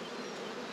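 Honey bees buzz steadily on a hive frame of capped brood, a dense, even drone close by with no pauses and no voices.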